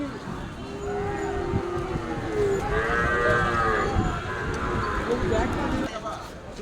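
Cattle lowing at the busy Beldanga cattle market, long drawn-out moos rising and overlapping in the middle of the clip, heard amid a dense crowd of voices and market noise.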